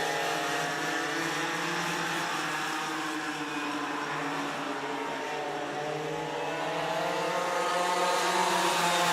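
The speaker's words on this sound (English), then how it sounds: "Talon Kowalski and Duncan Rethmeyer leading us to Green Flag Racing" Small racing karts at a karting speedway howl past in a steady, continuous engine drone at green-flag racing pace, several motors overlapping with pitch sweeping as they pass, loud and sustained throughout.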